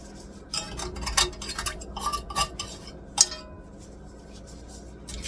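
A metal utensil scrapes and clinks against a pan while cooking chicken vegetable soup, with several short, sharp taps and scrapes in irregular rhythm, close and moderately loud over a quiet background.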